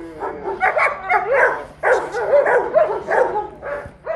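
An eight-month-old dog on a farm barks and whimpers in a quick run of close, loud yelps and whines, with short pauses between bursts.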